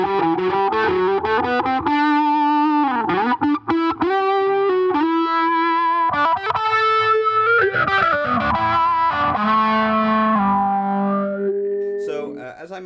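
Electric guitar played through an Electro-Harmonix Cock Fight Plus wah fuzz pedal, giving a loud, sustained fuzzy lead with sweeping vocal-like wah filter movement across held notes and bends.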